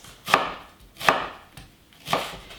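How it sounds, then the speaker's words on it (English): A knife chops through a leek on a cutting board in three sharp, distinct thwacks spaced roughly a second apart, close and clear with no talking. "while I'm chopping this half, I might get you to chop that half"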